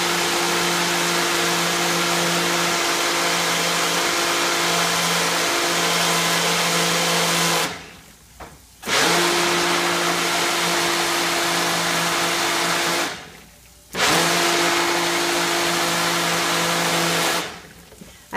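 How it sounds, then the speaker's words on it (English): A small Ninja blender whirs loudly as it purees alfredo sauce with tomato, basil and mushroom, running in three steady bursts that cut off abruptly between pulses, with no talking. "I love this little ninja blender."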